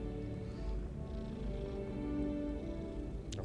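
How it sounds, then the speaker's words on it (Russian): A cat purring in the video game Hogwarts Legacy, a continuous low rumbling purr heard up close alongside a steady game background hum, ending with a short bright chime. "Что за кошка бархатная?"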